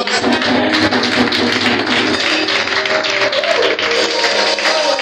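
A church congregation applauds during a service: dense, sustained clapping fills the space steadily from start to finish, with a faint musical hum beneath it.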